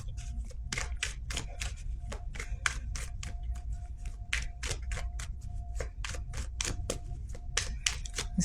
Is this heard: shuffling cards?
yes